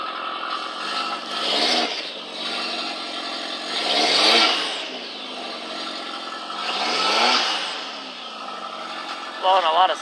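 Turbocharged 1.8T four-cylinder in a VW MK4 Jetta, newly fitted with a downpipe, revs up in several swelling bursts, rising and falling loudly with a whooshing turbo character, while people talk over it.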